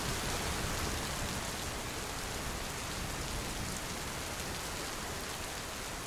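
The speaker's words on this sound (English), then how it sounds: "Sitting in the little wooden hut, he listened to the rain" Steady rain pours down in a dense, even hiss. It holds constant with no voices or other sounds.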